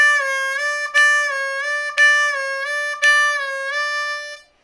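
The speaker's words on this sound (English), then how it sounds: "four draw whole step bend" Close, clear triplets on a C blues harmonica: four-hole draw notes pulled through a whole-step bend, a half-step bend and back to the plain draw in one breath, each note sharply tongued, with no voices.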